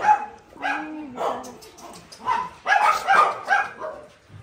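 Several dogs bark and yip in quick, overlapping bursts, close by, with a short whine in between.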